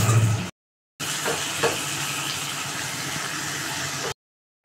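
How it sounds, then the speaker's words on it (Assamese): Mutton fries in a pan with a little water, making a steady, close hissing sizzle that briefly cuts out to silence near the start and again at the end. "মাংসখিনি এনেকুৱা ডিপ ব্ৰাউন হোৱালৈকে ভাজি থাকিব"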